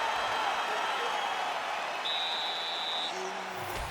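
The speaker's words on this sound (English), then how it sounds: "the crowd voicing its appreciation" A crowd roars its appreciation in the EA Sports UFC 5 fighting game between rounds, a steady, dense wash of applause and noise that stays loud throughout, with a brief tone sounding over it midway.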